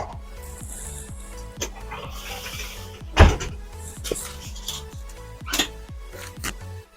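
A semi-truck door is opened and closed during a CDL pre-trip inspection. It gives a loud clunk partway through, with smaller rattles and clicks around it over a regular ticking and the engine's idle hum.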